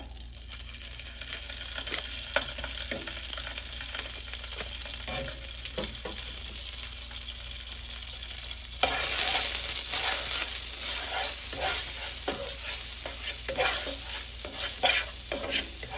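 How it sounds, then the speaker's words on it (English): Butter sizzling in a skillet for French toast, a steady hiss with scattered scrapes and taps, growing louder and brighter partway through, no voices. "now we're gonna add some butter to the skillet"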